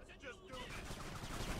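Gunfire in the video game Kane and Lynch crackles in a dense, continuous volley through the short stretch, fairly quiet and mixed with game voices.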